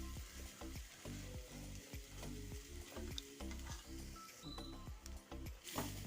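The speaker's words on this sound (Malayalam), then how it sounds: "ഫ്ലെയിം അല്പം ലോയിൽ വെച്ചിട്ട് വേണം ഇതൊന്ന് ചിക്കി ചൂടാക്കി എടുക്കാൻ." Squid thoran stir-fries in a pan on a low flame, with a continuous soft sizzle and a rhythmic run of spatula scrapes and taps against the pan, close and fairly quiet.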